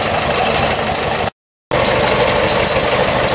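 A 4-cylinder tractor engine with a 3-point hitch, a utility tractor type, idles steadily with a loud, even mechanical chatter close by, broken by a short gap of silence midway.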